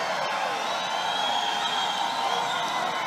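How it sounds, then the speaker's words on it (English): A large crowd at a Donald Trump campaign rally in Tampa, Florida, cheering and roaring in a steady, sustained din with tonal shouts and whoops carried through it, fairly distant and unbroken. "What a crowd."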